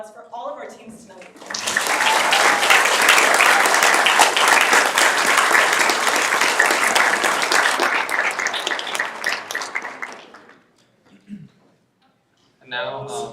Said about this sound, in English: can I please get a round of applause for all of our teams tonight?